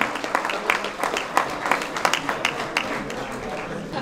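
Scattered outdoor clapping from a crowd honouring the top three women and men on the podium of a trail race, moderately loud with irregular individual claps and some background murmur.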